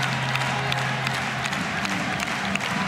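A stadium crowd applauding and cheering Keflavík's 2006 cup win at the trophy presentation, a continuous dense roar of clapping and shouts holding steady and loud from start to finish.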